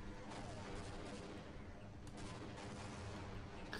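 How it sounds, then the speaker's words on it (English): Dense, rumbling explosions in the video game Half-Life roll together continuously like a distant barrage, a dull booming wash with no pauses, fairly quiet overall. "Could you stop with the explosions?"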